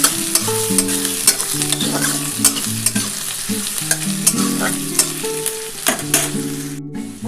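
Onion and garlic frying in a pan for a dhaba-style egg tadka, a steady close sizzle with repeated stirring scrapes throughout, no talk.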